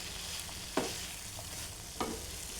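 A spoon stirs boiled broad beans into masala in a pan, a faint sizzle running throughout with two distinct scraping knocks against the pan a little over a second apart.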